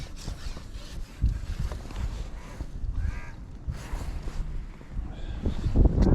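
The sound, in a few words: wind blowing on microphone outdoors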